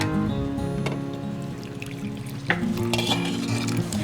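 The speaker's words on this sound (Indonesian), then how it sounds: "Kita aduk-aduk sampai larut." A spoon stirs steadily in a pot or pan, dissolving palm sugar, with light scraping and clinking against the metal over a low hum.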